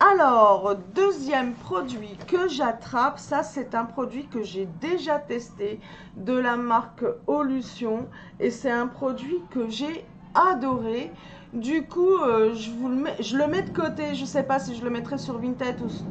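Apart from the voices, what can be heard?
No distinct noise like a dog, phone or traffic.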